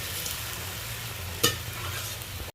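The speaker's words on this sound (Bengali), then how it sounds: "ভালো করে আমি একবার নেড়ে নিচ্ছি।" A spoon stirs greens, potatoes, eggplant and crab in a hot pan, a soft steady sizzle with one sharp scrape of metal on the pan partway through, close and with no talking.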